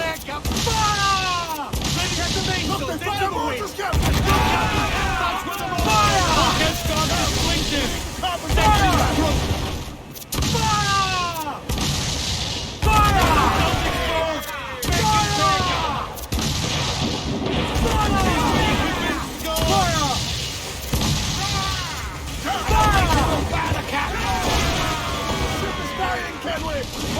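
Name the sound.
ship cannon broadside fire in video game Assassin's Creed 4 Black Flag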